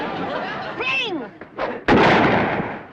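A shotgun blast in a 1960s sitcom scene of The Beverly Hillbillies, a single loud sharp report that follows a burst of voices and then trails off.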